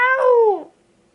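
Someone narrator's voice imitates a cat's howl, one drawn-out meowing wail that rises, holds, then slides down and fades within about a second, loud and close with no other sound around it.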